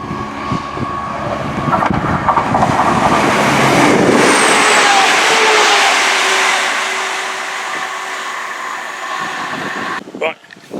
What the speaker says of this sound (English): now those trains have passed